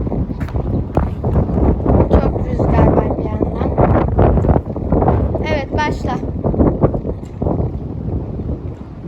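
Strong wind buffets the microphone with constant rumbling gusts in a garden while people talk over it during a football game.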